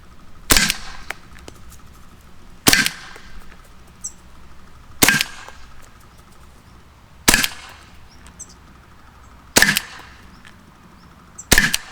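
An Umarex HDR50 CO2 pistol fitted with a tuning barrel fires six sharp, loud shots at a steady pace roughly two seconds apart, each a crisp pop with a short tail, no talking in between.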